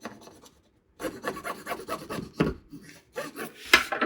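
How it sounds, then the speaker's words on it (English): Paper on a scrapbook layout is burnished in quick rubbing strokes, a series of close, rasping scrapes after a short pause, uneven in rhythm and with no talking. "I'm just going to burnish that in."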